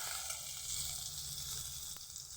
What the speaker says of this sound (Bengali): একদমই ভালোভাবে ভেজে নেবো